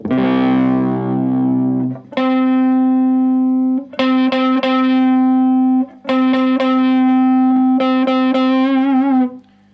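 Distorted notes from a Gibson Les Paul Traditional electric guitar ring out in several sustained phrases, each separated by a short silence, loud and close, the tone shifting as the tone control sweeps.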